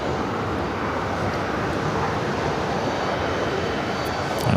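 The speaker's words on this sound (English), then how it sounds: "That was the plane that had the go around earlier." A steady, loud roar of an airplane's engines as it moves on the ground at JFK airport, a continuous broadband drone holding level throughout with no talk.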